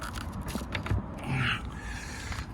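The hinged rear locker door of a 2008 Hymer B544 CL A-class motorhome swings open with a faint creak and a few soft mechanical clicks from the latch, close by.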